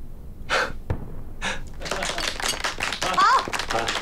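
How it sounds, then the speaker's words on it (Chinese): A group of people applauds indoors, with a couple of short isolated claps first and then a denser burst of clapping that runs alongside speaking voices. "大家都给你鼓掌了"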